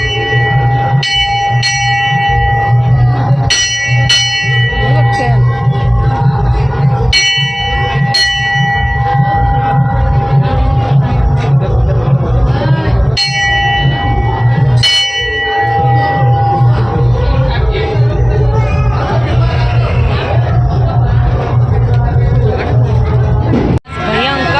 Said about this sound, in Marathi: भयंकर गर्दी आहे, भयंकर से भयंकर गर्दी आहे.